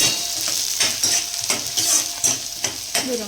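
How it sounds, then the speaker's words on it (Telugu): Chopped onions frying in oil for a simple egg curry, a close sizzle broken by repeated scraping strokes of a spatula stirring in the pan at a steady rhythm. "కట్ చేసుకొని ఇంకా ఉల్లిపాయలు అయితే దీంట్లోకి వేసేసుకుంటా ఉన్నాను. ఇవైతే కొంచెం ఫ్రై అవ్వాలన్నమాట."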